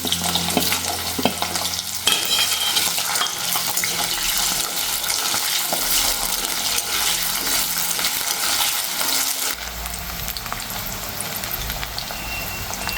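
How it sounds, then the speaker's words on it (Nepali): Cut potatoes frying in hot mustard oil, with cumin and fenugreek already tempered, for a Deule mushroom dish; a steady loud sizzle with stirring runs throughout, easing slightly in the last few seconds. "अब चाहिँ म सुरुमा यो काटेर राखेको आलुलाई चाहिँ फ्राई गर्छु।"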